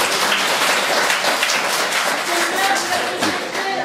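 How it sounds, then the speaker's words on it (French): Audience applauding at a municipal council meeting in Lorgues, a dense, steady wash of clapping from many hands that fills the whole stretch at full loudness. "ils ont le droit d'applaudir"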